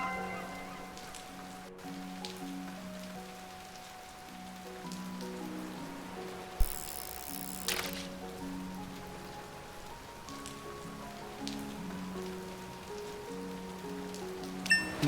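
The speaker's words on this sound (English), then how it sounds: "I'm enjoying the rain sound." Steady patter of rain weather effects in the farming and tavern video game Traveller's Rest, a soft continuous hiss under gentle game music, with a brief brighter burst partway through.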